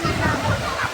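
Lake water sloshing and lapping along the Lake Toba shore, a steady, close, broadband wash of small waves with faint voices in the background.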